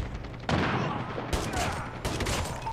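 Gunfire in Call of Duty Mobile comes as a couple of sharp bursts of shots over busy game noise, fairly close and loud within a short span.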